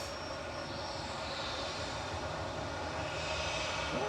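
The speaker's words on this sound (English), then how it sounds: "This is EasyJet to Oslo, GZWH A320 with flight 2087" An EasyJet Airbus A320 jet at Manchester Airport gives a steady, broad engine roar at moderate distance, holding even throughout with no talk.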